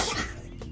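A single sudden sneeze bursts out in the middle of casual conversation between people reviewing a superhero series, loud and close, with talk continuing around it.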